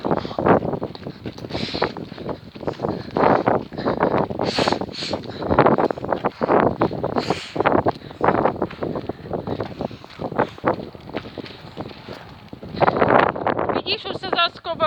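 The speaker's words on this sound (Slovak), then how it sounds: "Vidíš, že aj fúka vietor" Gusty outdoor wind buffets the microphone throughout a walk on a sunny but chilly day, a steady rough rumble under people talking.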